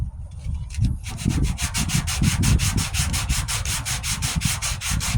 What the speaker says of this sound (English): I'm using just the sandpaper itself, so I can contour to the panel